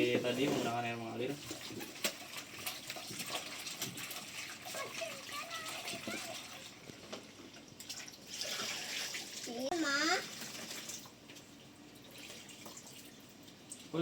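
Spinach is washed under running tap water, with a steady close splash and trickle of water under ongoing talk.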